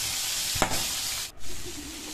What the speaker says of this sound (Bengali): আমি একটু লাল লাল করে ভেজে নিচ্ছি।